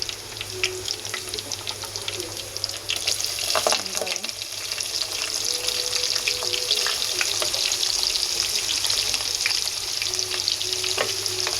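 Onions and green chillies fry in hot oil in a pan for a chicken dish, a steady loud dense sizzle with occasional stirring scrapes and clicks throughout.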